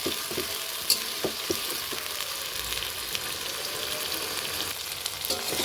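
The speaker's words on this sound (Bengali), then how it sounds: "এই বাটা মশলা দিয়ে আলুর সাথে একটু না মানে ভালো করে কষিয়ে নেব" Potatoes fry with ground spice paste in an oil-filled pan, giving a steady close sizzle with scattered spatula scrapes and clicks throughout, no voices.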